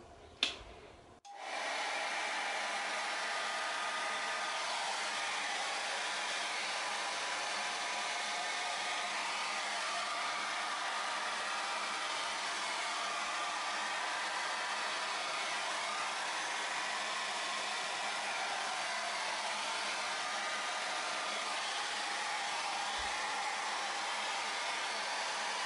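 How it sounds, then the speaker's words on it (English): Hair dryer blowing steadily on a Dutch acrylic paint pour with ColourArte pigments and added silicone, a close, loud continuous whoosh that starts after a brief knock and runs unbroken throughout. "A blow dryer to mess things up."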